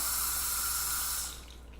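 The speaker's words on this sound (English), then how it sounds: "the first thing I do is I get my brush wet" A paintbrush is wetted under a running tap: a steady, close water hiss pours for just over a second, then cuts off, leaving a quiet room.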